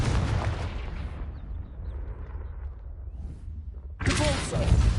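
A Confringo fire spell bursts in Hogwarts Legacy with a loud, close boom that decays into a rumbling tail, then a second sharp blast hits near the end.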